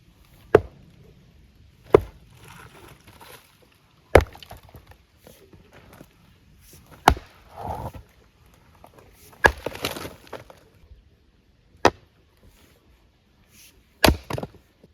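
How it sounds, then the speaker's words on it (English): An axe splits firewood in the Portuguese countryside, with sharp, loud single cracks spaced a couple of seconds apart and faint rustling and knocking between blows. "I find splitting firewood quite enjoyable and almost addictive."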